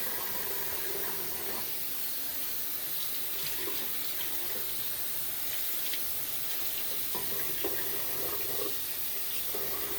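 Running tap water pours steadily into a sink while a face is rinsed off, a constant close splashing hiss with faint irregular splatters throughout.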